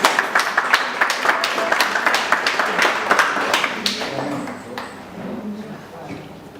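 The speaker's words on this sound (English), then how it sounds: "Give her a round of applause." An audience at a Christmas party claps, a quick, dense burst of applause that thins out after a few seconds. Voices murmur underneath as it dies away.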